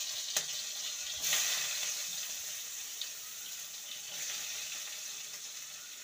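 Chopped onions hit hot oil already seasoned with a whole dried red chilli and a green chilli, for a Bengali egg posto curry; a steady, close hiss of frying carries throughout, with a few brief clatters near the start.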